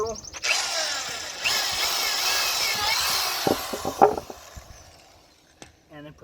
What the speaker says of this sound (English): Now finish drilling through.